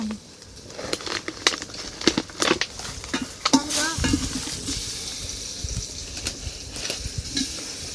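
Spices tempering in hot oil in a pot at an outdoor farm party, sizzling in short bursts while being stirred, with clinks of utensils and a few voices talking nearby.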